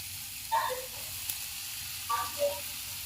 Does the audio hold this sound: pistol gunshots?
no